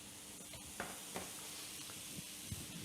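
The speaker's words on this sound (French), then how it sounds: "je vais prendre une louche et je vais verser ma pâte dessus" Breton galette batter is poured onto a hot griddle, giving a faint, steady sizzling hiss with a few soft ticks and pops scattered through it.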